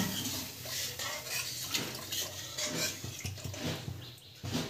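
Water poured into bubbling egg curry masala in a pan, a continuous splashing and hissing pour close by with faint utensil clinks, no talking.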